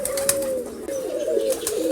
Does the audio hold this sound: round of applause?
no